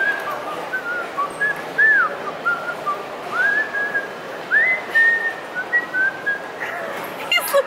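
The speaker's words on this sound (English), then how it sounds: "I can't stop whistling" Someone whistles a wandering tune nearby in short melodic phrases with brief pauses, fairly loud against a quiet background.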